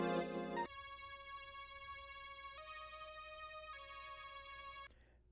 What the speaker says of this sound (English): this little lead from Analog Lab 3. It's called Modular Lead